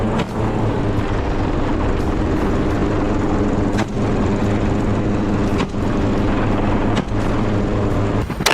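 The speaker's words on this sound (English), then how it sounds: "Minutes later, John's chopper approached an open field" A helicopter flies low over an open field, its loud, steady engine and rotor roar filling the whole stretch with brief dips, no voices present.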